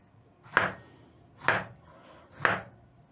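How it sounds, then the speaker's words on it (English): A knife chops through plantain on a cutting board in three evenly spaced, firm thuds, close and clear with no talking. "So I'm going to wait for the oil to get hot as I chop my plantain."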